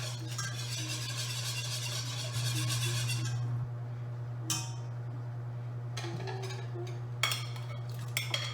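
Brisk whisking of meatball sauce with mushrooms in a pan, a quick scraping clatter for a few seconds over a steady hum, followed by scattered light clinks of utensils.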